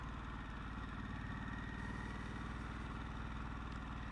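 Steady, loud engine rumble of a 2021 Harley-Davidson Sportster S motorcycle on a test ride, a continuous low throb with wind noise and no talk.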